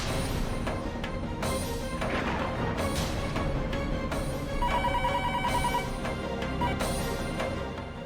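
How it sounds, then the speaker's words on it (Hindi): A telephone rings again and again with no one answering, its trilling bursts repeating over a loud dramatic music score with heavy hits. "साक्षी जी अपना फोन नहीं उठा रही हैं। कई बार ट्राई किया।"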